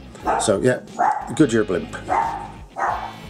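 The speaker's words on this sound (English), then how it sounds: "Please excuse the little dog barking." A small terrier barks in short, sharp bursts indoors while a person keeps talking over it close by.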